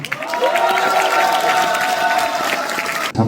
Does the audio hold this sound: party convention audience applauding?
yes